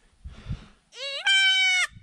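A young goat on a small farm with a mother and triplets gives a single loud, clear bleat lasting about a second. Soft rustling comes just before it and again after.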